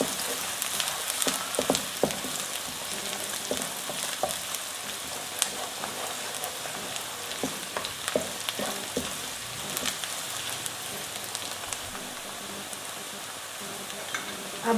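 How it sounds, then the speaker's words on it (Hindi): Chopped garlic and onion frying in a pan for a balti chana dish: a steady, fairly quiet sizzle dotted with crackles and pops that runs on without a break, and no one talks over it. "थोड़ा सा और फ्राई करेंगे लहसुन प्याज को।"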